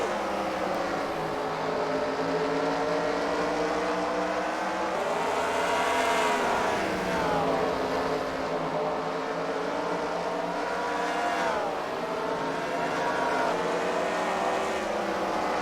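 Race cars in a CWRL Fight Night event at The Freedom Factory roar around the track, engines rising and falling in pitch as they accelerate past, loud and continuous with no talk.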